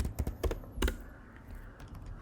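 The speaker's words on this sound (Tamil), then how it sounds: "இப்போ நான் என்னோடய பாஸ்வேர்டை டைப் பண்ணிக்கிறேன்." A password typed on a computer keyboard, a short run of close, crisp key clicks in an uneven rhythm that fades to quieter taps.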